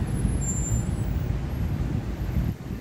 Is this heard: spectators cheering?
no